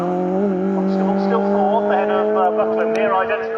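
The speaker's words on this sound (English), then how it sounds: "Over the line goes second and third, the Peugeot 205 sounding good." A Peugeot 205 and other race cars run in a Racing Club race at Snetterton. Sustained, loud engine notes hold and climb steadily, with a voice talking over the track noise.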